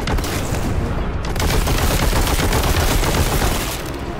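Sustained rapid gunfire from Warhammer 40,000: Boltgun in the Sanctum Manufactorum level roars loud and close, a dense, unbroken barrage of shots with no talk over it.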